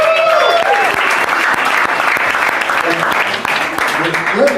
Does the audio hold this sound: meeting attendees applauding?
yes